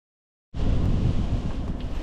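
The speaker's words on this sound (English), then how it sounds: "But it is very windy, so we're being rocked all over the place" After a brief silence, strong coastal wind buffets the microphone with a steady, loud rumbling roar that gusts unevenly.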